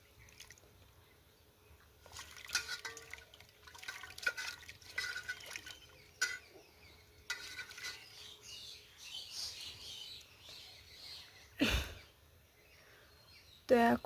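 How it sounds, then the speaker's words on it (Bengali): Freshly cut potatoes are washed in water in a village kitchen, with intermittent splashes, drips and sloshing, faint bird chirps behind and a brief louder knock near the end. "এখন ধুয়ে নেব আলুগুলোকে"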